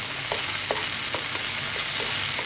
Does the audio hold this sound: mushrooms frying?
yes